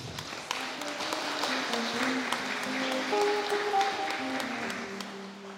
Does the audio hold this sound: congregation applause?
yes